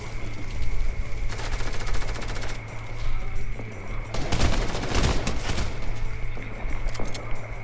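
Rapid automatic gunfire rattles in bursts during a Fortnite match, with dense overlapping volleys and sharp shots clustering loudly near the middle over a constant game background.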